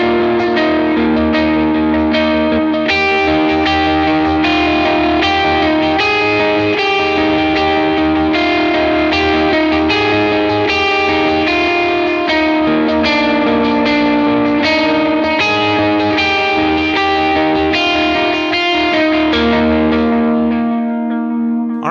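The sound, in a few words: electric guitar with dotted eighth delay and reverb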